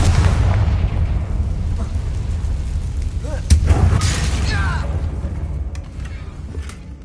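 A Confringo blasting spell explodes in Hogwarts Legacy, a loud booming burst with a sharp crack midway, the rumble fading out over several seconds.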